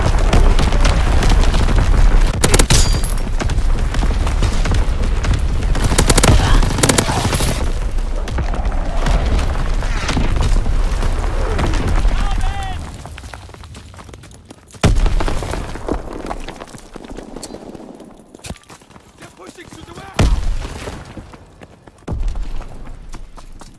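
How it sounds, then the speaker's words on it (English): Heavy artillery shells land with deep booming blasts amid scattered gunfire, a loud sustained barrage that thins out into sporadic isolated impacts and bursts. "Incoming enemy artillery!"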